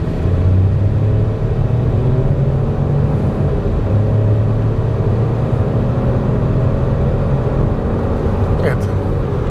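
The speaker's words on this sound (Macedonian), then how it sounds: "Тука има веднаш вклучување на автопатот и едно забрзување." A 130 hp Opel Mokka accelerating onto a motorway, heard from inside as a steady, loud low engine drone and road rumble with rising revs, while someone talks over it.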